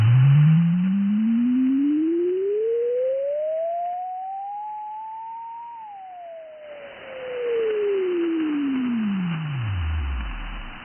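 Dead radio carrier tone on an Icom IC-9700 transceiver, a clean loud whistle that glides slowly upward in pitch and then falls back down, alone and steady for about eleven seconds.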